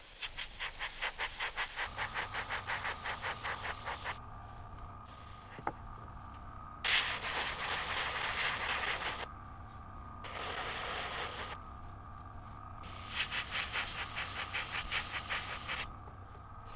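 An airbrush hisses in bursts as olive green paint is sprayed onto a 3D-printed brook trout swimbait lure, a faint, close spray with short gaps between passes.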